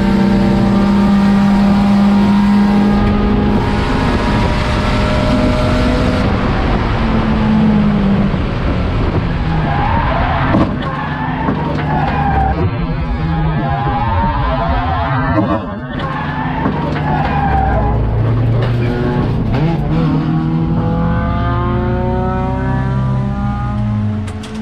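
Honda Civic endurance race car driving on circuit, engine droning and shifting pitch with some revving, then a sudden disturbance in the middle suggesting the accident, before the engine noise resumes steadily.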